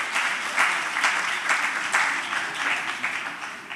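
An audience at a Black History Season launch event in Camden claps steadily for a few seconds, a moderate, even patter of many hands without voices.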